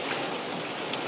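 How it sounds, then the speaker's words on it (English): Heavy rain pours steadily during a lightning storm, making a dense, close hiss with no voices. "I mean, just look at this rain."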